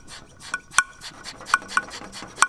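A hand pump on a coolant system pressure tester, hooked up to a Cummins 8.3L diesel, is worked in quick close strokes, each stroke a short squeak or click in an irregular rhythm.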